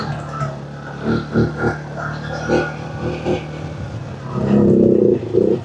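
A CFMOTO CForce 450 L 4x4 ATV engine revs up on the throttle, a loud swelling burst near the end after a steady idle with brief throttle blips, heard close by.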